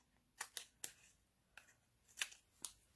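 Scissors snipping paper stamping supplies from a Stampin' Up Delicate Desert suite: about seven sharp, separate cuts in an uneven rhythm, close and fairly quiet, with no talking.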